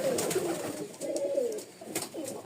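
Rajshahi Giribaz pigeons coo softly and close by in a loft, several low rolling coos in short bursts with brief flutters and light noises between them.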